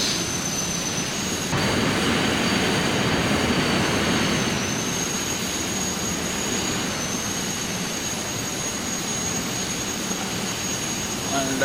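Simulated jet aircraft engine in Microsoft Flight Simulator X, a loud, steady roaring whine with a high tonal hum, continuous and close for the whole stretch with a brief surge early on.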